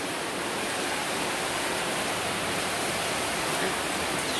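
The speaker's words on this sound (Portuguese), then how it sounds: "Tá chovendo bastante." Heavy rain pours down at a house under construction while water rushes off a roof gutter, a continuous loud hiss and splash that stays steady and uninterrupted throughout.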